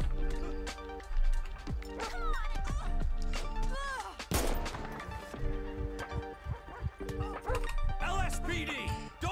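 A police K-9 dog in GTA V with the LSPDFR mod barks repeatedly in loud, close bursts, yipping between them, mixed with game noise and an officer shouting commands.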